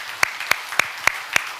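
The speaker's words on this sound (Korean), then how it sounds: "박수 한번 합시다" A church congregation claps in a sparse, regular rhythm, with about five sharp, distinct claps spaced evenly over a second and a half, fairly close and moderately loud.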